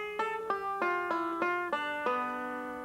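Six evenly spaced plucked banjo notes step through a short melodic phrase on a five-string banjo, each with a crisp attack and ringing sustain, the last note left to fade; close and solo.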